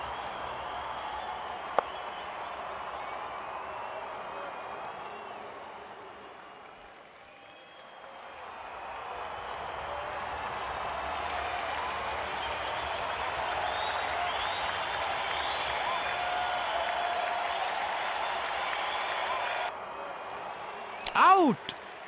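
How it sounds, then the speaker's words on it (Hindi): A crowd applauds at a cricket match in an IPL video game, with steady, dense clapping and cheering that swells and carries on for a long stretch, dips briefly, then continues. "ऐसी गेंद पर सिर्फ तालियां मिलती है,"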